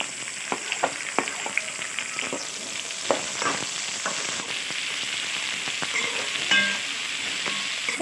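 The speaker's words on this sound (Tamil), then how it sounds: "இப்போ நம்ம கட் பண்ணி வச்சுருக்கிற வெங்காயம் சேர்த்து நல்லா வதக்கி எடுத்துக்கலாம்" Onions sautéing in a pan for a Tamil potato and chana dal kurma, a loud, steady frying hiss with occasional spoon taps and scrapes against the pan, close-up and continuous, no one speaking.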